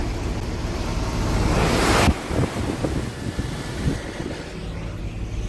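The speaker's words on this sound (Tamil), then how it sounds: "கேபின் அளவுக்கு தண்ணி தூக்கி அடிக்குதுங்க." Heavy flood water surges and splashes against a Volvo bus up to cabin height in heavy rain, a steady rushing roar, with a sharp cut partway through and rougher sloshing and buffeting afterward.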